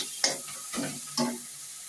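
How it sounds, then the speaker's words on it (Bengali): A spoon stirs spices and chilli powder frying in oil in a pan, making three distinct scraping strokes over a soft, continuous sizzle, with no speech. "এবার এগুলো নাড়াচাড়া করে একদম তেল তেল ভাবটা চলে আসবে"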